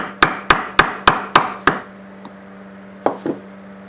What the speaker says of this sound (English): just get like a punch, a flat punch like that, and hit it in the center